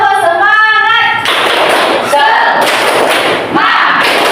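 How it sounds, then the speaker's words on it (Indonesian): Schoolchildren in an Islamic history class join a rhythmic clap-and-chant routine, voices first calling out together, then loud, sharp bursts of group clapping and shouted syllables landing in a quick pattern. "Kita tepuk semangat lagi."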